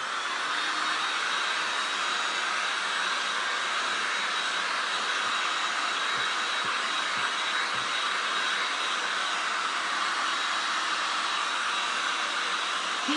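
A hair dryer blows steadily and loudly at close range over glass and resin art, a constant broadband whoosh lasting over ten seconds with no talk.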